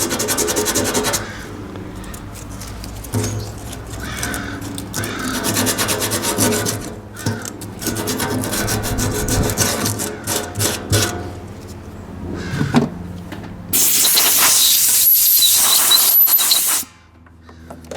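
Sandpaper rubs back and forth over a primed Ford 800 tractor part, a steady close rasping scrape that runs continuously with brief pauses before a louder, hissier stretch near the end.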